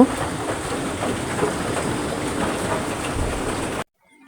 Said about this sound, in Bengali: আজ কয়টা দিন পর্যন্ত বৃষ্টি হইতেছে